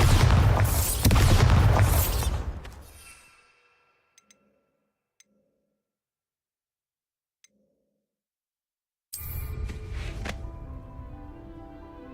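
Bombarda blasting spell in Hogwarts Legacy erupts in a loud, heavy boom that decays over a few seconds into near silence with a few faint ticks, then another loud burst of noise returns.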